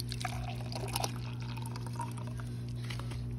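Water is poured into a terra-cotta pot used as a filter, with a close, quiet splash and trickle early on, followed by lighter drips and dribbles.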